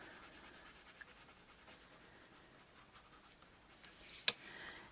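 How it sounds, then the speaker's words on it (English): A pencil colors on paper with a soft, continuous scratchy rubbing close up and quiet, ending in one brief sharper tap near the end. "A little ASMR with the pencil."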